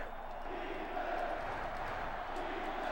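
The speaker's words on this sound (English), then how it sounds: "pretty big crowd here in Greeley, Colorado right now. Getting pretty loud" A large video game stadium crowd at an NCAA Football 06 game roars steadily, a dense wash of voices and cheering that holds at a constant, fairly loud level throughout.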